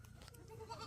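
A goat bleats at a goat pen, a faint, short wavering cry over low rumbling background noise.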